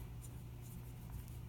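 A pen writes on paper with a faint, steady scratching that runs unbroken through the short stretch.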